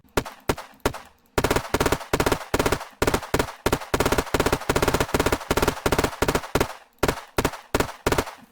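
A Maplestrike gun in the video game Unturned fires at a tree in rapid automatic bursts, loud and sharp, with brief pauses between volleys and no talk.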